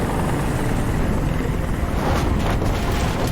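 A helicopter hovers overhead in the Detroit: Become Human video game, a loud, steady rotor rumble with windy noise that continues throughout.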